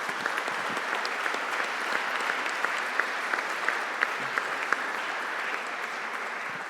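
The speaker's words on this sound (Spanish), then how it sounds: "¿Me ayudan con un aplauso?" Steady applause from the audience at a museum forum closing session, many hands clapping evenly for several seconds at moderate volume with a few sharper claps standing out.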